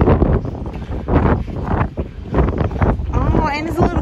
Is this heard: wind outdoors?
yes